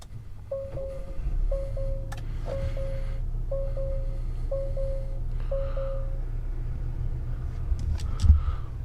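A 2020 Acura RDX A-Spec SH-AWD starting up: a steady low engine rumble runs throughout beneath a string of six short, evenly spaced electronic chime tones, closing with a brief thump.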